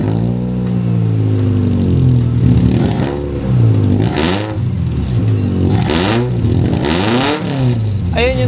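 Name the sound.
Toyota MR2 exhaust with resonator, engine revving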